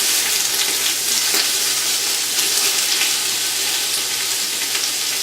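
Onions sweating in a pan for cabbage soup give a steady, even sizzle, close and continuous with no talk.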